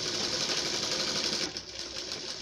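A sewing machine runs steadily, stitching a neck piece onto fabric with a fast, continuous mechanical whir, close and fairly quiet, with a slight dip near the end.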